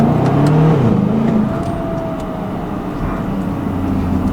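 A stock 2011 BMW X5 M engine pulls through the gears from inside the cabin, a loud steady drone with a shifting low tone that eases slightly after the first second.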